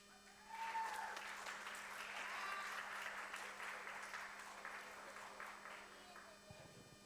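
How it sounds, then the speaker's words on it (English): Guests applauding at a wedding reception, a sustained wash of clapping that holds steady for several seconds at moderate distance before tapering off, with some murmured voices mixed in. "Let's give them another big applause."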